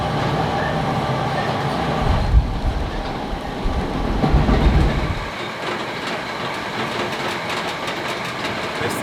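Train cars rolling steadily along the rails, a loud and close rumble with rhythmic clickety-clack from the wheels throughout, no voices.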